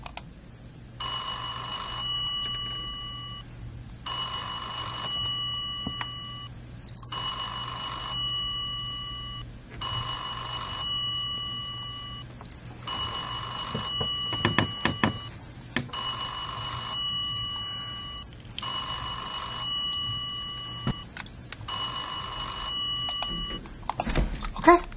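Telephone ringing inside an airship in Microsoft Flight Simulator 2020, a bright electronic ring repeating in evenly spaced bursts about every three seconds, eight rings in all, with faint background hum and brief clatter midway.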